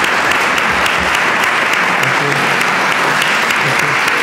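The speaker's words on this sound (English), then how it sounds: "Just give a round of applause" Applause from a conference audience thanking a panel of speakers: dense, loud, steady clapping from a crowd that fills the room without pause, with no voices standing out.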